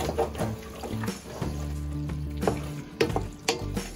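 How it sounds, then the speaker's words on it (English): Bell pepper soup being stirred in a pot, with faint low sloshing and a few light clinks of the utensil against the pot at the end, quiet and close. "Let me stir this up."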